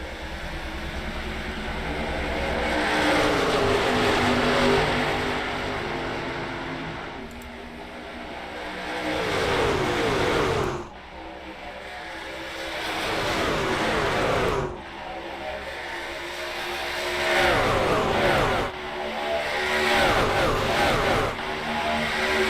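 Sim racing cars in a video game accelerate together on a restart, a continuous loud engine roar with rising revving sweeps and brief gear-change dips, under an announcer's commentary.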